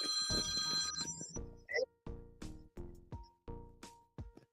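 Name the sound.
telephone ringing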